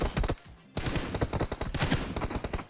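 Gunfire in the video game PUBG Mobile crackles in rapid, close automatic bursts, a short volley, a brief pause, then a longer sustained stream of sharp shots.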